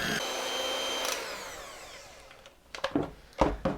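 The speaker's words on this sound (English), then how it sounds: "Now I'm going to take my electric mixer. I'm going to beat this for about 2-3 minutes just to get it nice and smooth," An electric hand mixer whirs steadily through cookie batter with a continuous motor drone that fades gradually, followed by a few clattering knocks and scrapes of the beaters near the end.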